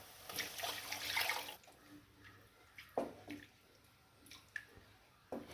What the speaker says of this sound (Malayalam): ഇനി നമ്മൾ തക്കാളി അരച്ച ജാറ് കഴുകി ഒരു 3/4 കപ്പ് വെള്ളം അങ്ങോട്ട് ഒഴിച്ചു കൊടുക്കാം.